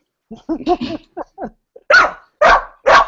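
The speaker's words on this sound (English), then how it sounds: "My dogs are jumping" Several dogs bark excitedly, a quick run of smaller yips followed by three loud, close barks in an uneven rhythm with short gaps of silence.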